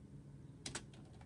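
Keys on a computer keyboard tapped while typing a name for a Roblox character: two sharp, close clicks in quick succession, then a few softer, lighter taps trailing off, with no voices over them.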